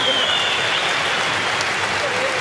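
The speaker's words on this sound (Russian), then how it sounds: "Мы слышим, аплодирует ему зал." Boxing arena crowd applauding a Japanese fighter as he gets back up after taking heavy punches, a steady dense wash of clapping throughout with a faint whistle-like tone over it.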